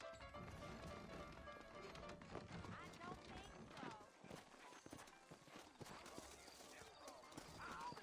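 Rapid clip-clopping of horse hooves in the video game Red Dead Redemption, steady and busy throughout, mixed with voices talking and other game sounds.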